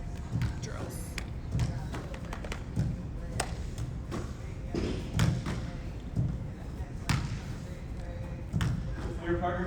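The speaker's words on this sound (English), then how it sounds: "you're just knocking that ball one touch against the wall" Soccer ball knocked one touch at a time against a wall during a training drill, giving repeated dull thuds at a steady rhythm under ongoing talk from people nearby.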